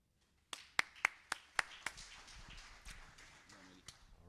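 Audience applause at a data summit session: a few sharp, separate claps ring out in a reverberant hall, then thin into scattered softer clapping that fades away.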